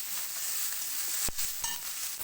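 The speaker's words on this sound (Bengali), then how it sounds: "ভালো করে ভেজে নেব।" Onions fry in a small amount of oil in a pan with a steady, moderately loud sizzle, broken by a couple of brief clatters from stirring, with no talking.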